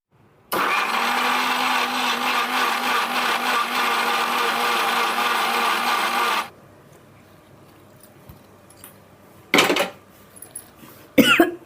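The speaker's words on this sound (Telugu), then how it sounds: "ఇప్పుడు ఈ మొత్తాన్ని మెత్తగా మిక్సీ పట్టుకుందాం" A kitchen mixer grinder blends tomato chutney with ginger and coriander seeds, a loud, steady whirring roar for about six seconds that cuts off abruptly, followed by a few short bursts of handling noise.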